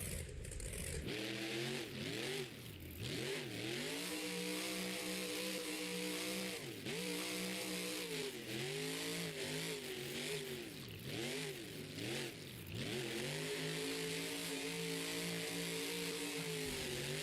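A monster truck called Avenger roars at full throttle while it pulls a huge sky-high wheelie at a stadium freestyle show in Anaheim. The loud engine revs climb and drop in repeated surges and stay strong the whole time, with no talk over it.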